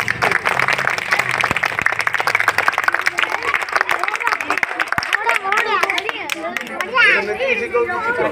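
Applause and clapping from a crowd at a magic show, dense and continuous throughout with lively chatter and a performer's voice mixed in over the top.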